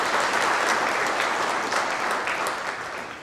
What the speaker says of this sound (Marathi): मला वाटतं सगळ्यांनी एमपीसीसाठी एकदा टाळ्या वाजवला पाहिजे